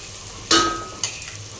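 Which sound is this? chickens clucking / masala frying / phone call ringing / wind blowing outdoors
masala frying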